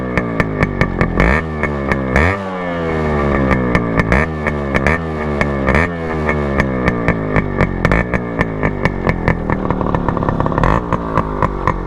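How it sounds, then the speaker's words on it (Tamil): A Yamaha RX100 two-stroke motorcycle engine idles steadily with a rattly, buzzing putter and occasional uneven pops, close by and loud, no talking. "வண்டி ஸ்டார்ட் ஆயிடுச்சு. Ideal sound."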